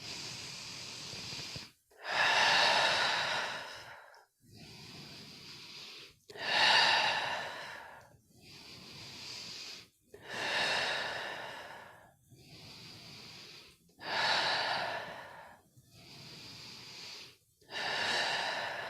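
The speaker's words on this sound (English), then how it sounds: "Nice deep breath in." Slow, deep meditative breaths repeat in a steady cycle, each long airy inhale and exhale close and clear, about eight breaths separated by brief quiet pauses.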